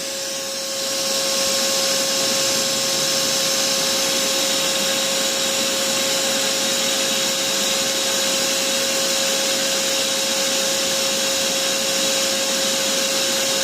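A Paint Zoom paint sprayer, overheating, runs with its hose removed: a loud, steady motor whine with a constant pitched hum that holds unbroken from start to finish, no talking.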